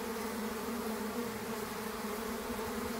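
Honey bees from a strong colony hum in a steady, dense buzz at the hive while pollen is collected, a continuous drone with no pauses.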